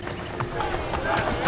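Horse hooves clip-clopping in the Assassin's Creed Brotherhood video game, a quick run of muffled hoofbeats under a talking voice.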